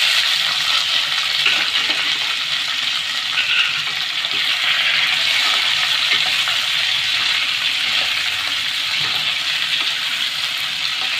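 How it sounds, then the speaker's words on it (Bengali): Mango pieces fry with five-spice seeds in a pan of hot oil, a loud, even, hissing sizzle that stays constant and close throughout with faint stirring underneath and no talk. "এবারে আমগুলো আমি ঢেলে দেবো।"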